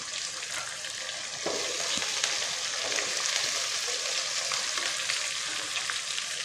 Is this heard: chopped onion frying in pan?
yes